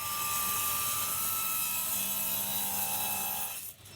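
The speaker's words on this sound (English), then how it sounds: "I then ripped them to final width using the table saw" A table saw rips wood to final width with a continuous, loud whirring buzz and steady cutting rasp, winding down abruptly near the end; no voices.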